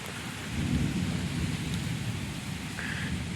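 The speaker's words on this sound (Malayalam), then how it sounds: "നല്ല കാറ്റുണ്ട്" Stormy weather with a broad steady roar of wind and rain, swelling loudest in the first second and holding fairly level after.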